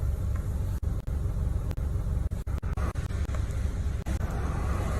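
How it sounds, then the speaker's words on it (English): Cars driving by on a road below, a continuous rumble of passing traffic broken by several sharp clicks and brief dropouts, with no talking. "There are cars literally driving right under this moments prior"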